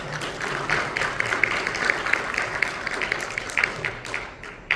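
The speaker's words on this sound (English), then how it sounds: "Can we get another round of applause for that work?" A fundraising dinner audience applauds in a continuous crowd clatter of many hands, moderately loud and even throughout before tapering at the very end.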